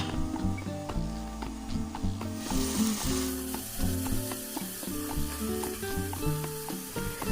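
Chicken pulao sizzling steadily in a pot after yogurt is poured in, a dense crackling fry with small pops and stirring scrapes, close and moderately quiet, no talking.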